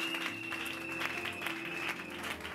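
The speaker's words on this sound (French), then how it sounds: "Acclame plus fort pour la gloire du Seigneur." A church congregation applauds together in a dense, continuous patter of clapping that stays steady throughout, with music sustaining underneath.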